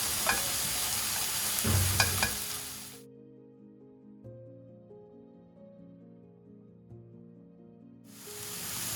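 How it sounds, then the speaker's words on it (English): Onion and capsicum for a flatbread veggie pizza topping are stirred in a pan with no oil, giving close sizzling and scraping that fades into a quiet tonal stretch before the sizzle returns at the end. "onion and capsicum here. Mix them up."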